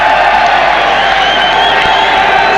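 Hockey stadium crowd at a 1994 World Cup semifinal, cheering and whooping loudly and continuously for a player who waves to them, a dense roar filling the whole moment.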